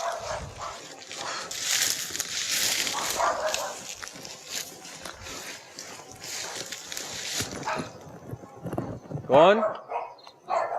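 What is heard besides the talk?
dogs barking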